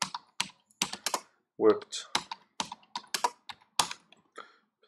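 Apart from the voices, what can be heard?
typing on a computer keyboard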